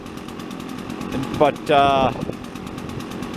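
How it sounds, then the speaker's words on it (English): A Husqvarna 150BT backpack blower engine idles with a steady buzzing drone, then revs up briefly to a higher whine during high-speed carburetor adjustment, with someone speaking over it. "the motor revs up nice"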